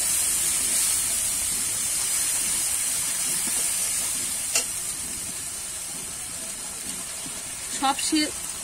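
Dry spices cook in water in a pan for a Bengali ridge gourd, potato and prawn curry, giving a steady bright hiss and sizzle. A few faint scraping stirs come near the middle and near the end.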